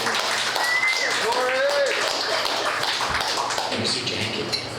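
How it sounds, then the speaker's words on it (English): A comedy club audience claps for an audience member during a stand-up set, a dense, even patter of many hands lasting several seconds, with a few whoops and voices mixed in. "Everyone clap it up for Corey sitting right here."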